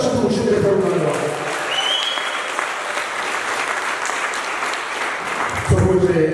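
An audience at a church gathering claps steadily in a dense, sustained burst of applause, fairly loud and even, with a voice breaking in near the end.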